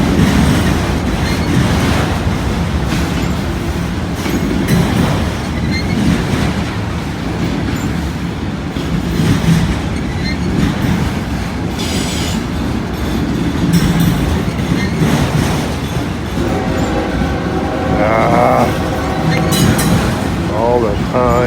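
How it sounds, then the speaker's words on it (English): A freight train with auto rack cars rolling past at a rail meet, a loud steady rumble and rattle of wagons throughout with squealing wheels near the end, while people talk over it. "There's definitely another train coming."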